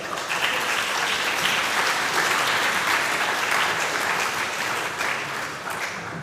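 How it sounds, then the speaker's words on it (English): Dense audience applause at a conference presentation, steady and loud throughout, tapering slightly at the end. "So let's give them a very big clap"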